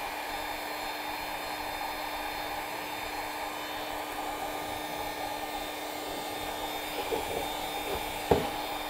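A heat gun blows hot air onto old Bondo body filler, a steady close hair-dryer-like whoosh with a fan whine that holds unchanged, with a few light taps and a sharp knock near the end.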